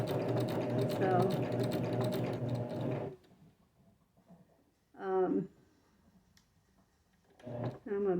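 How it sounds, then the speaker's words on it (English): A sewing machine fitted with a walking foot stitches through several layers of quilting cotton in a steady run up close, then stops, followed by two short bursts of stitching in the quiet. "I'm using my walking foot because I'm working with quilting cotton and there's many layers"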